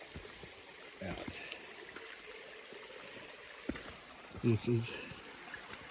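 A creek flows beneath a small footbridge on a mountain trail in North Carolina, a steady soft rush of water underlying a few footsteps and brief speech.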